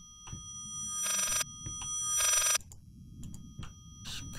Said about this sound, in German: Hier ist das Telefon.